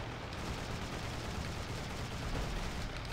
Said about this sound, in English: That was some nastily close flak.